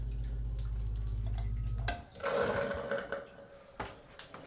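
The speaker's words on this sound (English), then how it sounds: "Water started coming out of there when I pumped it." A pump motor hums steadily for a moment, then stops, and water gushes and splashes from a basement pipe, trickling and dripping unevenly.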